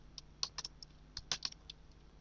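A computer keyboard is typed on quietly while writing Python code, a sparse, irregular patter of about a dozen soft key clicks close by.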